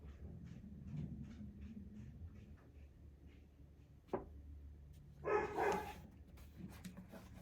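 Dogs bark at a distance in a quiet room, faint and scattered, with a sharper bark near the middle and a short louder burst of barking toward the end.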